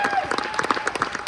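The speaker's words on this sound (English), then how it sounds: "Big round of applause." An audience at a museum announcement gives brief, dense applause with many quick claps and overlapping voices.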